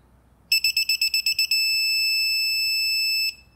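The YJ 60648 digital torque adjustable wrench gives a high electronic alert on reaching its set torque. About ten rapid beeps are followed by a held tone of nearly two seconds, loud and close in a quiet room.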